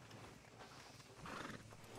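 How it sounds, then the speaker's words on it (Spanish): Horse in the video game Red Dead Redemption 2 gives a short whinny alongside clip-clopping hooves, faint and close, with low game ambience underneath. "El caballo de Dutch es hermoso"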